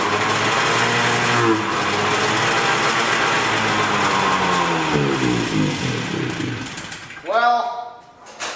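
An old Yamaha 350 motorcycle that had not run in years idles and revs roughly for several seconds, loud and close, its pitch wavering before it sputters out near the end.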